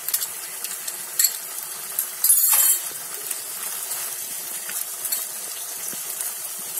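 Ginger paste added to a frying pan while cooking chicken dopyaza: a faint, steady sizzle with occasional stirring clinks of a utensil against the pan, and a brief louder burst of hiss near the middle.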